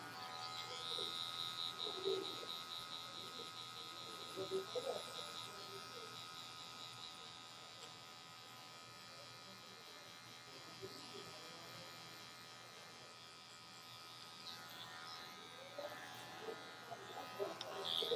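Electric hair clippers buzz steadily through a high taper cut on kinky hair, a thin continuous whine near the ear with small changes in tone as they move, and a voice talking now and then over them.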